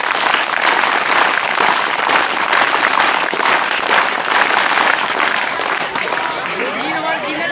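Students at a village high school give guests a loud, continuous round of welcoming applause, with crowd noise mixed into the dense clapping throughout.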